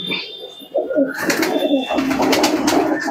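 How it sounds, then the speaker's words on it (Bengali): Andhra Kalshira pigeons cooing close by in low, throaty bursts, with soft bird chatter and rustling around them. "এটা আন্ধ্রা কবুতর, আন্ধ্রা কালশিরা।"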